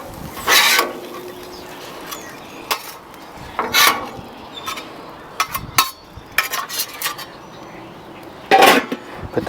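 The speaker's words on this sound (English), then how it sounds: "Put the lid on it." Metal lid set onto a metal hotel pan in an outdoor cooking setting: scattered clanks and scrapes of metal, with a few louder rattling hits, close up and without talking.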